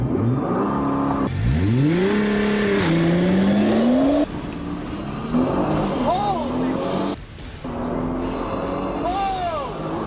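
A 2013 Nissan GT-R on launch control, held on the brake in manual mode while the engine revs to about 4,000 rpm. Loud, close, repeated rising and falling engine sweeps, with someone talking over parts of it.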